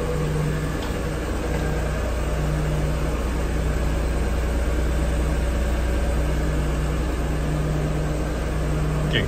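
A 1991 Acura NSX sits idling up close, its engine giving a steady, loud low hum with constant exhaust drone and no change in pace throughout.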